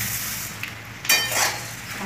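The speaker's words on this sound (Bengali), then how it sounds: "পাঁপড়টা ভাজা হয়ে গেছে, এরপর দিয়ে দিলাম আমি মুড়িগুলো" Puffed rice poured into a hot pan after papad frying sets off a low sizzle that swells into a sudden crackling rush, then settles into a continuous hiss.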